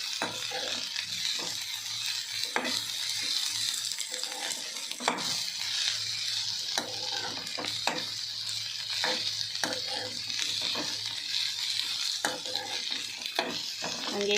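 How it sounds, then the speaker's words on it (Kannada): Slices of bitter gourd sizzle steadily in hot oil, with recurring scrapes and knocks of a spatula stirring them in the pan, close and continuous without any voices. "ಎಣ್ಣೆಯಲ್ಲಿ ಚೆನ್ನಾಗಿ ಫ್ರೈ ಆಗಬೇಕು ಹಾಗಲಕಾಯಿ"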